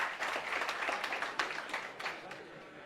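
A live audience applauds, a dense, steady wash of many hands clapping at once, fairly close and continuous for about three seconds with a few sharper individual claps standing out.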